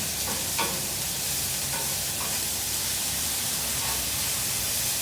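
Ground beef sizzles on a flat-top Blackstone griddle as it is broken up, a steady broadband frying hiss with occasional soft scraping clicks, close and continuous, no voices.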